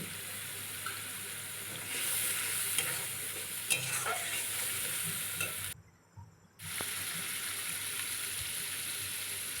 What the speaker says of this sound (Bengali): সামান্য হলুদ দিয়ে দিলাম এখানে আর একটু জল দিয়ে কষিয়ে নেব